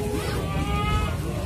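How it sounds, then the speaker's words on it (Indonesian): Large goats calling at close range, a loud, sustained bleating cry with a wavering tone that runs through the whole moment over steady background noise. "Tuh gede banget tuh kambingnya tuh kak."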